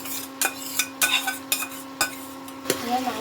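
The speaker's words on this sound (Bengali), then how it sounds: "ম্যারিনেট করা মাংসটা দিয়ে দেবো।" Marinated mutton coated in yogurt, turmeric and oil being stirred into a fried spice paste in a metal pot, with repeated sharp spoon scrapes and clanks against the pan over a low steady hiss, close and fairly loud.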